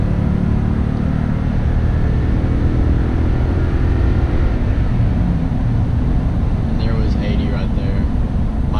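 A Toyota Tundra with a 5.7L engine and Flowmaster Super 44 exhaust accelerating from 60 to 80 mph, a loud continuous low engine drone and road roar inside the cab, rising steadily throughout.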